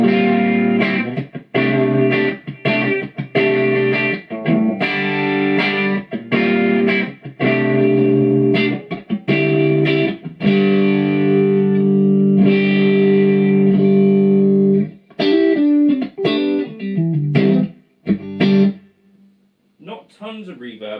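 An electric guitar played through a Bad Cat Cub V tube amp in 12AX7 mode with a short, room-like reverb, strummed chords and picked notes ringing out with a slightly overdriven tone.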